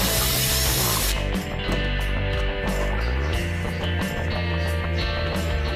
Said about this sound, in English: Grab your hand drill and drill a hole for your wire and your tubing.